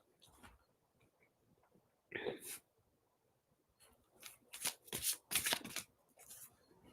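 Cards being shuffled up close: a brief riffle, then a longer run of crisp, rapid bursts of flicking and snapping, with quiet gaps between.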